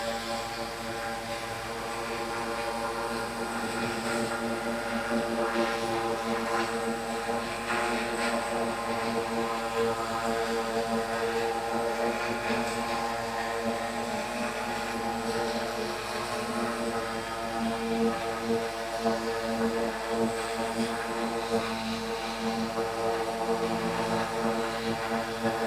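An eight-motor octocopter drone flies outdoors, a steady droning buzz of many whirring propellers that holds at an even, fairly loud level throughout with no talking.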